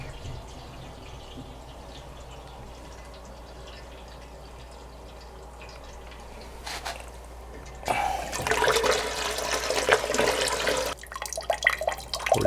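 Water from a seized clothes washer tap drains into a pot, first as a low steady trickle, then gushing louder and splashier as the tap is opened fully, with a brief clatter and a rougher surge near the end.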